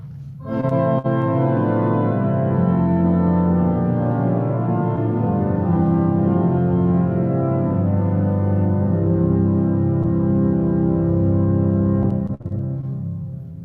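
Church pipe organ playing choir violin diapason and swell stops with rich sustained chords, loud and full throughout with no voices, the chords shifting slowly before a brief break near the end.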